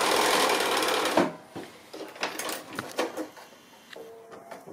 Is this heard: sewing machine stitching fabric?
yes